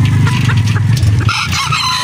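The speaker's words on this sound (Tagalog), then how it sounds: "marami na tayong stock na battle stag" Gamecock stag roosters at a game farm in Batangas, a loud, close chorus of crowing over steady clucking from many birds at once.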